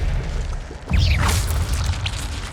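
The Expelliarmus disarming spell fired in Hogwarts Legacy hits with a sudden deep boom and a swishing bright streak of magical effect, followed by a short sparkling ping over low game ambience.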